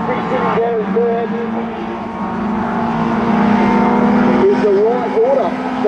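Junior sedans race at Kingaroy Speedway, a steady loud engine drone with rising and falling revs as cars circle the track, carried under a continuous commentator's voice.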